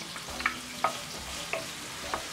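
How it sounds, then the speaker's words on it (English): Onion and garlic sauté in cooking oil in a frying pan with a quiet, steady sizzle, broken by a few soft scraping stirs at regular intervals. "You're going to saute your onion until aromatic. Then you add your garlic."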